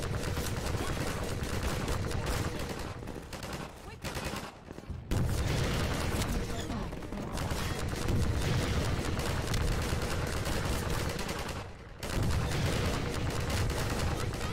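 Sustained gunfire in Half-Life 2 during a gunship fight, dense rapid automatic bursts and heavy booms that run almost continuously with a couple of brief pauses, loud and close.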